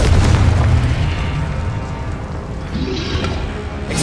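A Confringo fire spell detonates in Hogwarts Legacy, a loud sustained booming blast with rumbling low end that rolls and decays across the moment, no voices over it.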